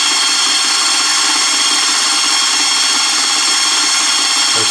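A homemade guitar pickup winder with an automatic traversing wire feed spins steadily at 1000 RPM, giving a continuous, even mechanical whir and hiss that holds unchanged for the whole stretch, close by and with no voices.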